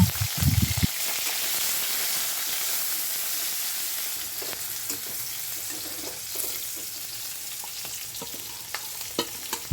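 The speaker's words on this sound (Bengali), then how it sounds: "পেঁয়াজ কাঁচামরিচ রসুন দিয়ে একটু নেড়ে চেড়ে ভেজে নেব" Onion, green chili and garlic stir-fried in hot oil with five-spice seeds, giving a steady close sizzle with scraping stirs throughout and no talking.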